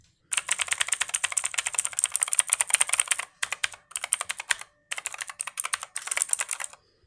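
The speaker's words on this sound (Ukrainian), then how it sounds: "Я думаю, що вам, в принципі, чутно характерне клацання синіх свічів." A Vinga KBG mechanical keyboard with blue switches clatters loudly under fast typing, each keystroke a sharp click in dense bursts, broken by a few short pauses.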